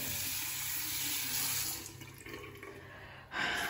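Water gushes from a tap into a bathroom sink while someone washes their hands, a loud steady splashing that dips briefly, then surges back up.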